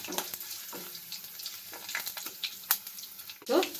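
Garlic roasts in hot oil in a pan for rasam with a soft, continuous crackling sizzle, stirred now and then with light scrapes and a few sharper clinks.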